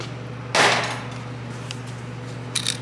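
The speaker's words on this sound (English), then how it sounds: "So I'm gonna start by removing the 18mm bolt nut." An 18mm bolt nut being loosened on the top serpentine belt idler pulley of a 1999–2009 SAAB 9-5: one sharp metallic crack as it breaks free, then a brief fainter clink, over a steady low hum.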